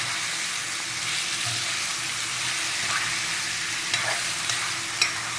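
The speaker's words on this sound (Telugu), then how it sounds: "చికెన్ వేపుతూ మధ్యలో కూడా మసాలా వేయచ్చు" Chicken frying with masala in a pan gives a steady, close sizzle with soft stirring scrapes and a few small pops near the end.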